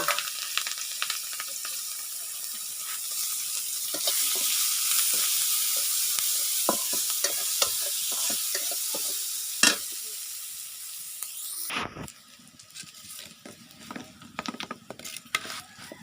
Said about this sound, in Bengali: এখন হলো আমি মাছটা ভুনা করবো